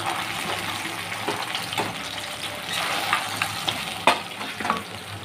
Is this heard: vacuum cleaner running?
no